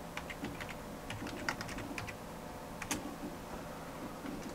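Quiet typing on a computer keyboard, a run of light, uneven key clicks with a few sharper taps, close to the microphone over a low steady background hum.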